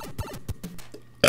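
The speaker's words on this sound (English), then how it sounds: "Oh god, I just burped." A single loud burp at the very end, short and harsh, following a stretch of quiet game music and faint vocal sounds.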